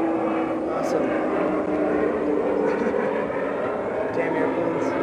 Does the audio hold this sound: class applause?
no